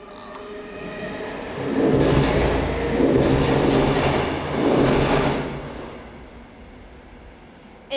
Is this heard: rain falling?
no